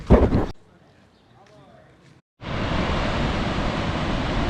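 Steady broadband surf on the beach at Zambujeira, Portugal, rising abruptly after a brief quiet stretch and continuing loud and close with wind, following a short burst of talk at the start.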